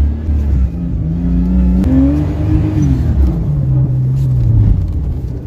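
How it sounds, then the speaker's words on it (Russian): Nissan car engine warming up then pulling away, a steady low rumble with rising revs and a tonal whine sweeping up and down, close and continuous, no talk. "Nissan мы прогреваем и едем."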